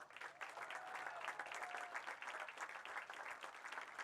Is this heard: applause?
yes